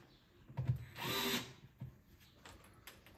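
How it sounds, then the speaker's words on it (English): An electric screwdriver drives screws while a touchless toilet paper dispenser is being installed, with a quiet short motor whir in the middle surrounded by faint clicks and handling knocks. "I've got an electric screwdriver"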